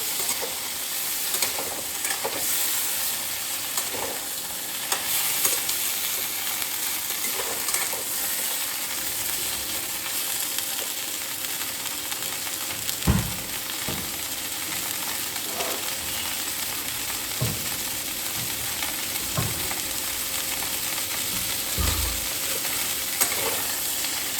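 Vegetables for a Bengali katla fish curry frying in a pan, a steady broadband sizzle throughout with occasional stirring clanks and scrapes, close and alone with no talk.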